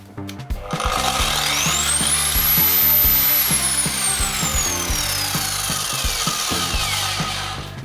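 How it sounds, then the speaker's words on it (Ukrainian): A soft-start circular saw spins up gradually, its whine rising in pitch over a couple of seconds, then holds a loud steady hum before slowly winding down. "Як ви почули, пилка має плавний запуск."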